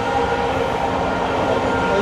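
Steady, loud rumble of a passenger train running, heard from inside a carriage on the rail journey from Kolkata toward Mizoram. The rolling noise is dense and continuous, with no voices.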